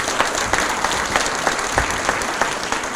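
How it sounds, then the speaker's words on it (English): A State of the City audience breaks into sustained, even applause, loud and close, with faint rhythmic accents running through the clapping. "let's give them all a round of applause again, please."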